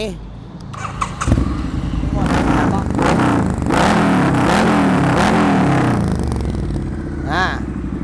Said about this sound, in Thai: เดี๋ยวฟังเสียงท่อกันหน่อย ท่อสาตัวสั้น เสียงจะลั่นมากแค่ไหน